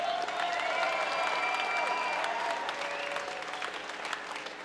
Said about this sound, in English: one more round of applause for a great fight.